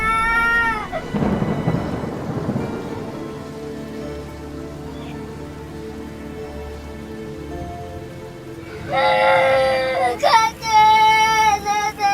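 Heavy rain and a thunderstorm: a steady downpour hissing on surfaces, with a rumble of thunder early on and brief tonal sounds at the start and near the end.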